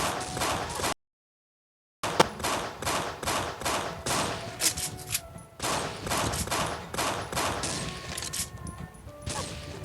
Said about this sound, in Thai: ขอบคุณเพื่อนที่ช่วยยิง